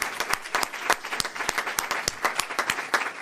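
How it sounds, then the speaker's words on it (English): Another round of audience applause at a talk honoring Minister Louis Farrakhan, a short burst of fairly quiet clapping from a modest group, individual claps clearly separable in an uneven, lively patter. "Let's give him another round of applause."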